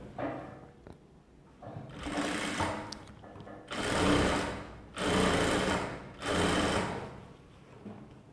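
A sewing machine stitches a frill onto a puff sleeve in several close, loud bursts of steady whirring, each lasting about a second, separated by short pauses and light handling clicks.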